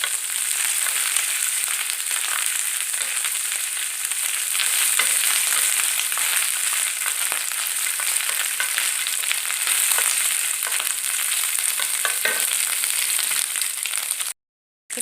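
Mixed lamb offal fries in oil on a griddle, giving a loud, dense, continuous sizzle with crackling pops and occasional scraping, up close and unbroken until a brief cut near the end.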